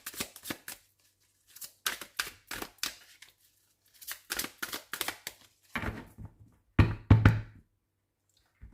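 Tarot cards are cut and shuffled by hand in a series of crisp slaps, riffles and taps, arriving in irregular bursts with short silent gaps and a few heavier thumps near the end, close and with no talking.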